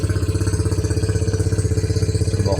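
A Honda Click scooter, just repaired with a new cylinder block, idles close by with a steady, even putter and a light mechanical rattle, no voices over it.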